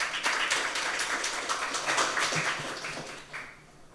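Audience applause from a crowd at a graduate school admissions information session, steady dense clapping for a few seconds that tapers off near the end.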